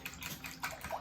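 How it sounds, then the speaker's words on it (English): Thick custard poured over slices of thick brioche bread in a baking dish for French toast, a brief soft liquid gush and splash, close and fairly quiet, with no talking. "And we're gonna pour our custard over top"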